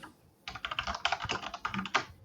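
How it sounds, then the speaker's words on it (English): A computer keyboard is typed on loudly near an open microphone during an online board game broadcast, a rapid, uneven clatter of keystrokes with no talking. "That's a very loud keyboard."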